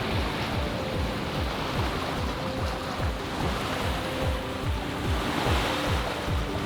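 A sailboat heels along through choppy water in strong wind, with a constant rush of surf and spray slapping rhythmically against the hull and steady wind noise over the microphone.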